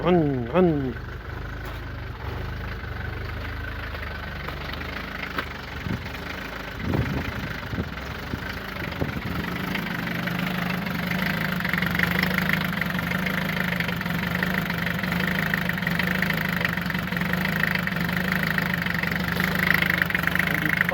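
A rebuilt car engine idling steadily for a long stretch, a low continuous hum with some knocking, while people talk over it.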